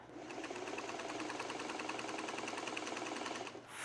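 A sewing machine stitching a quilt border runs in one steady, even burst of fast mechanical chatter, close and continuous for a few seconds before stopping.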